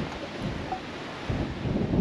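Wind gusting across an open riverside precinct on Gladstone's East Shore, a steady low rumble that swells louder toward the end, with no voices.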